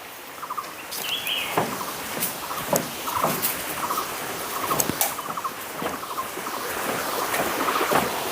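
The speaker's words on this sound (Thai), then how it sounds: "ได้ยินเนี่ยเสียงน้ำไหลอะ่ะ" A steady rush of flowing water at Phu Sang Waterfall, a warm-water waterfall in Thailand, fills the background, with scattered taps and clicks nearby.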